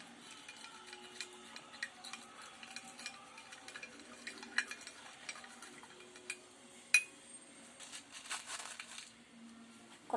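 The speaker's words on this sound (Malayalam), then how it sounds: "ഉപ്പ് നമ്മൾ നന്നായിട്ട് ഇളക്കി അലിയിക്കണം." Spoon stirring salt into water to dissolve it, a run of faint, irregular clinks and scrapes against the container with a few sharper taps, quiet and close, with no voices.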